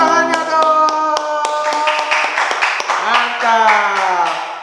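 Children clap their hands together in a lively burst of applause-like claps, with singing and voices carrying over the rhythmic clapping throughout.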